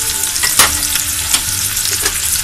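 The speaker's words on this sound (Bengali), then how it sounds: "ভালোভাবে নেড়ে চেড়ে হালকা ভেজে নিচ্ছি" Chopped onions and green chillies fry in oil, a loud close sizzle with several quick scraping stirs of a spatula against the pan.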